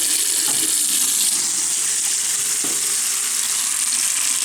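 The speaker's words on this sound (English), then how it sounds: "Not great water pressure here, but excellent water pressure here." A hotel sink faucet in a double vanity runs in a steady, hissing rush of water, close and unbroken throughout, with no voices.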